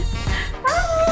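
A dog whimpers and yips in a short burst, a high thin whine rising and sliding near the microphone in a comedy film scene, with faint background sound and no talk.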